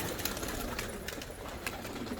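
Pigeons kept by a breeder in Germany, released outside on a sunny but freezing day, give faint, soft coos and rustles beneath a steady, hissy background for a couple of seconds.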